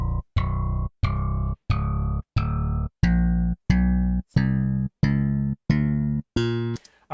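Synthesized DPCM sample notes from a chiptune tracker, played as eleven short repeated tones in a steady even rhythm, each note shifting in pitch across octaves, with a brief noisy blip at the end and no voices.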